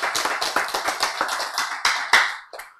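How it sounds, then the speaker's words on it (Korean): An audience at a health lecture claps in a brief patter of about a dozen sharp hand claps, close and fairly loud, ending with a few scattered final claps. "이때 박수 쳐야지"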